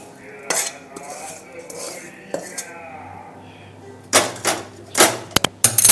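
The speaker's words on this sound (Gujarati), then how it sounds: "તો આપણે આને પાથરી દઈશું થોડું આ પ્લેટમાં અને થોડું આ સાઈડ આ પ્લેટમાં" Gundar pak, a sweet made with ghee, being spread onto greased plates with a utensil, giving soft scraping and a few sharp clinks of metal on plate, with louder clatter toward the end.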